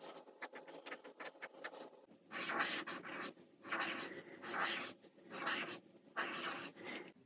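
A bullet nib pen writes faux calligraphy strokes on paper, with very quiet, close scratchy scribbling in short rhythmic bursts, first quick ticks and then longer rubbing strokes, separated by brief pauses.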